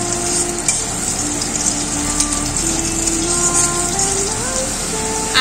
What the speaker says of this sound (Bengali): এবার আলুটাকে ভেজে নেব।